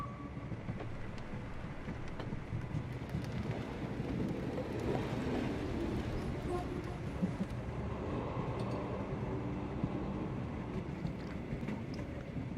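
Steady, continuous rumble of a train running in Sherlock Holmes: The Awakened, a dense low roar with faint rattling, holding at an even level throughout with no voices.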